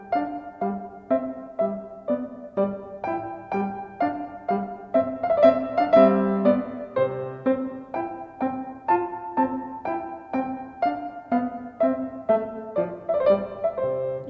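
A solo piano plays Mozart's 12 Variations on Ah vous dirai-je maman, the familiar Twinkle Twinkle tune, in clear, evenly paced struck notes that ring and decay one after another, with no talking.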